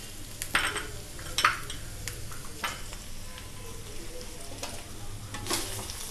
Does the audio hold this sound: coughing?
no